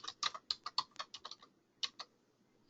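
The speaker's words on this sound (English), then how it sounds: "I'm typing it in the chat box" Typing on a computer keyboard while entering a link into a chat box: a quick burst of crisp key clicks, a short pause, then a few more taps, close and clear with no talking.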